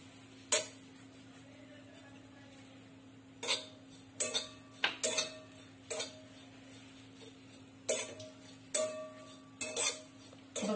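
Grated coconut being stirred and dry-roasted in a pan until lightly golden, heard as a series of sharp, close metallic scrapes and clinks of a spoon against the pan at irregular intervals over a faint steady hum.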